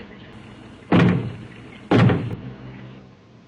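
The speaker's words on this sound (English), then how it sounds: "Knock twice if I'm not the first." Two heavy knocks on a door, about a second apart, loud and close, each a deep thudding blow with a short ringing tail, set against a quiet room hum.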